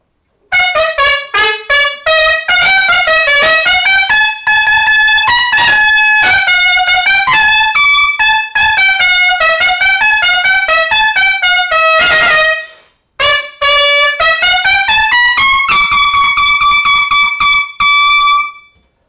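Powerful vehicle and truck air horns blare in long sustained honks, loud and close, holding then breaking briefly before resuming in a repeated series of overlapping tones.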